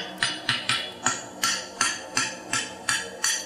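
Hammer blows on a horseshoe being forged, ten sharp ringing metallic strikes in a steady, slightly uneven rhythm, close and clear with no talk.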